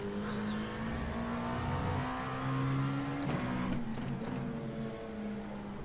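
Dallara P217 prototype race car at Monza in a racing game, engine holding a high, steady whine with pitch climbing and dropping through gearshifts, plus some brief clicks, fairly faint overall.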